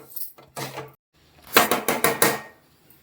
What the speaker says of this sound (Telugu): కొబ్బరిగా వేసుకుందాం రెండు కలిపి వేయించుకుందాం రవ్వ గోల్డెన్ కలర్లో రావాలండి వేయించుకుంటానే ఉండాలి